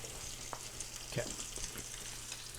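Soggy soaked bread for French toast fries in a pan of butter and sugar, giving a continuous close sizzle with a few soft clicks and shuffles.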